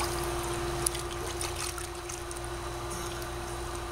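Pool water swirls and gurgles as it is sucked down a skimmer pipe during filter cleaning, a steady close trickling rush with a constant low hum, no talking.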